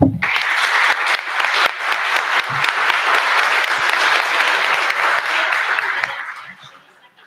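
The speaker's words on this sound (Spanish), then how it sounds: "Les agradezco mucho a todos y un fuerte aplauso." A strong round of applause from a seminar audience in a university classroom, steady dense clapping sustained for about six seconds before tapering off, with a voice briefly audible at the start.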